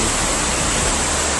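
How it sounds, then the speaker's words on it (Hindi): Floodwater rushes fast through village streets after a landslide and heavy rain, a dense, loud, unbroken roar of water with no pauses. "गलियों में तेज रफ्तार से पानी दौड़ रहा है।"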